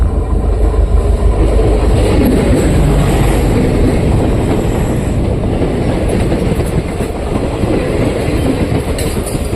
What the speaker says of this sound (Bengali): ট্রেন এসে পড়েছে, দেখি কি ট্রেন আসছে। যাত্রী ট্রেন, এই যে দেখুন।